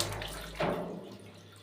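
A handheld water sprayer rinses a silkscreen printing screen, producing a steady close hiss of water with a brief louder burst partway through before it settles and fades.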